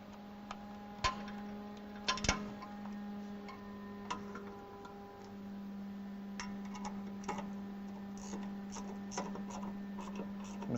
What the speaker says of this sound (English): this is a ratcheting wrench, so it helps you get in a lot tighter spaces